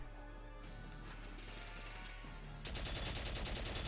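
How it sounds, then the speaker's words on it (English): Gunfire from soldiers in the Valkyria Chronicles video game, heard as a steady, dense stream of shots over game sound, growing louder and busier near the end. "they do shoot, but they hardly get any shots off"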